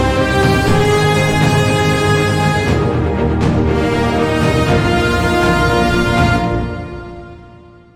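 Big acoustic trailer drums and toms pound together as a loose ensemble, a dense booming roll that stays loud and steady for about six seconds, then fades out into its ringing tail.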